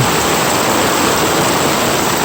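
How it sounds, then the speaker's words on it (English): Loud, dense rushing of heavy rain and water flowing down into a hole, a constant roar with no pauses and no voices. "and all this water is flowing down somewhere in this hole."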